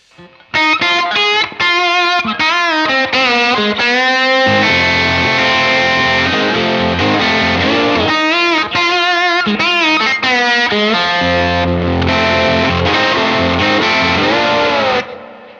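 A slide guitar with effects and distortion plays a vocal melody, singing gliding sustained lines close and loud, with heavier low chords joining midway and a steady, continuous phrase throughout.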